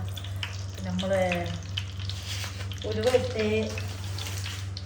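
Mustard seeds popping and sizzling in hot oil, a steady low frying hiss with faint crackles while someone talks over it.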